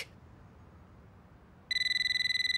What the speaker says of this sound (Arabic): هذا التليفون من وين عم يرن؟